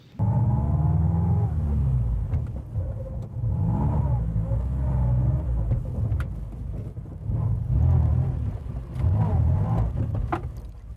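A car cruises with a steady, close engine drone and road rumble, easing off and surging a few times as it slows toward a stop, with a brief voice in between.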